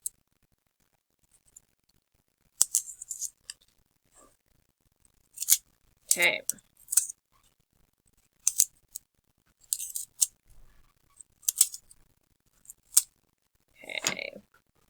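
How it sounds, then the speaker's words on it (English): Pencil sharpening in short scraping bursts, repeated several times with pauses between, close up; a voice briefly speaks. "now I need to sharpen my pencil because my pencil's starting to run out of pencil lead."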